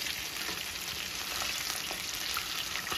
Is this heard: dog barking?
no